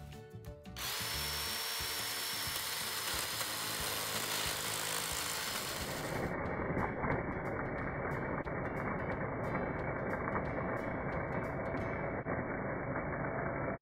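A Craftsman lithium-ion chainsaw cuts a small tree low to the ground, its motor whirring loud and steady for the whole stretch, with the pitch and grit of the cut shifting partway through.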